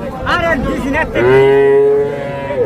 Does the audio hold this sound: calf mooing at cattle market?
yes